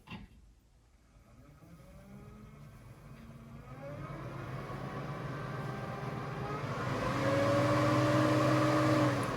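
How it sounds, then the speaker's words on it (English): The heater fan of a 1936 Chevy coupe starts up and spins up steadily, a rising whir and hum that grows louder and holds near the end, heard alone without talk. "Fan power on."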